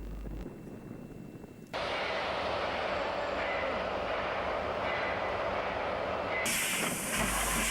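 A Standard Goods steam locomotive shunts in Junee Yard, New South Wales, in 1963, its steady hiss and rumble filling the scene loudly after a sudden start, with a brighter steam blast near the end.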